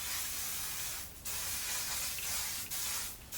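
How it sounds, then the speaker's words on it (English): Monat hairspray misted onto short curled hair in a few quick aerosol bursts, a soft close hiss broken by brief pauses between sprays, with no talking. "I take a little bit of the Monat hairspray"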